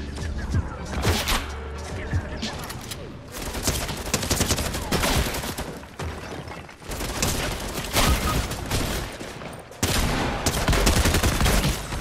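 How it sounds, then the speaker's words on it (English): Gunfire in a Fortnite match: dense bursts of rapid shots and fusillades crackle in clustered volleys with brief lulls between, fairly loud, with occasional crashes mixed in. "We're getting shot at."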